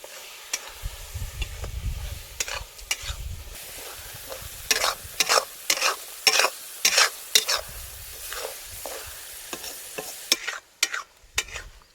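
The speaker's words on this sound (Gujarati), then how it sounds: "ટોમેટાની ગ્રેવી આવી ગયેલો હલાવો દાદી હલાવો" Paneer curry in tomato gravy being stirred in a pan over a village-style fire, with repeated scraping strokes of a spoon against the metal, sizzling between them, and low rumbles in the background; no one speaks.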